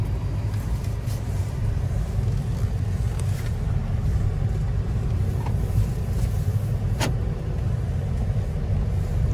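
A car driving steadily, heard from inside the cabin as a constant low road and engine rumble with a brief faint click near the end, no talking.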